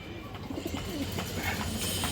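Low, soft cooing of a big male pigeon, beige in colour, repeating in a steady rhythm, close by, over a faint background hum.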